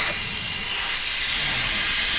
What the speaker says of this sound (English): Let's let the pressure out.